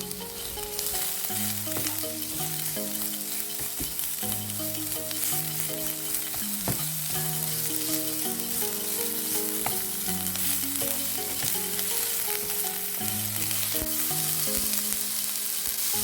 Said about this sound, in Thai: เราก็ใส่หมูสับลงไปค่ะ แล้วก็ผัดต่อนะคะ